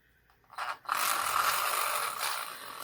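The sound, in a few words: mini mixer blending raspberry mica into sweet almond oil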